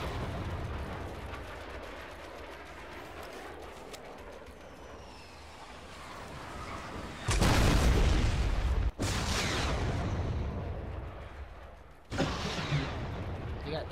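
Gunfire and explosions in Fortnite Battle Royale, with guided rockets in play: a steady rumbling battle bed, then loud broadband blasts that hit abruptly and sustain, cutting off sharply, with another heavy burst near the end.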